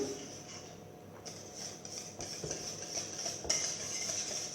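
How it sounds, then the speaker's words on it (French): A utensil working through warm custard cream while moulds are filled, with soft scraping and light clinks against a bowl or tray, close and fairly quiet, with an irregular rhythm. "on va remplir les empreintes avec cette crème"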